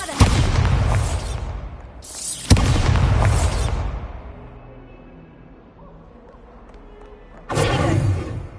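Bombarda explosion spell cast in the Hogwarts Legacy video game: loud booming blasts, one near the start and a sharper one around two and a half seconds, each trailing off into rumbling debris, then another burst near the end.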